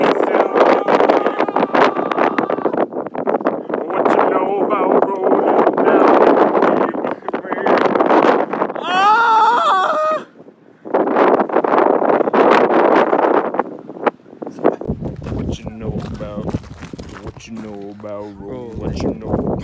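Strong wind roars against the microphone outdoors on a cliff, with heavy gusting rumble and people talking and singing over it throughout, plus a brief lull near the middle.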